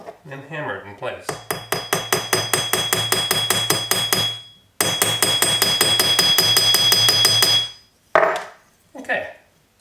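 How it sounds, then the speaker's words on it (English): A small hammer taps 18K gold rivets into a sterling silver cuff bracelet in two long runs of rapid, evenly spaced metallic strikes, bright and close, with a brief pause between runs and a few handling sounds after. "And then hammer it in place."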